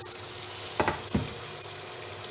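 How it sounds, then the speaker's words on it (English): Onion sizzles and fries in a hot pan on a hob turned up high, a steady close hiss broken by two brief louder crackles as the pieces go in. "So I've just turned that up to number 8 and get it sizzling."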